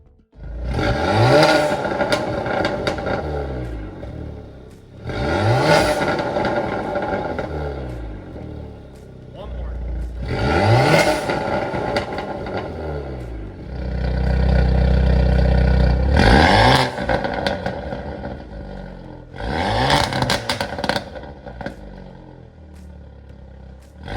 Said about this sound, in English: a downpipe and resonator delete will definitely give you a lot of pops and bangs